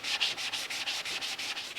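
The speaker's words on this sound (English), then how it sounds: "I've got maybe 2 or 3 minutes worth of block sanding here in this area to get that old stuff off of there" A sanding block rubs back and forth over motorcycle fender plastic to strip old material, steady close strokes in an even rhythm of about four per second.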